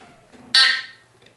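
A smoke and fire alarm gives one sharp, loud electronic chirp as its battery is connected, a brief high-pitched beep that quickly fades in otherwise quiet surroundings.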